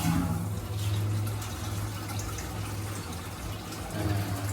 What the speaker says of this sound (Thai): ก่อนอื่น ผมจะขอแตะ ก้านชักโครกดูก่อน